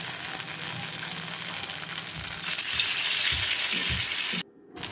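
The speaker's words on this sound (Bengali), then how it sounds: "এবার তেলটা গরম হয়ে গেছে সাবুদানার বড়াটা আমি দিয়ে দেব" Sago (sabudana) fritters drop into hot oil and sizzle with a loud, steady hiss that swells midway and then cuts off abruptly near the end, with no voices.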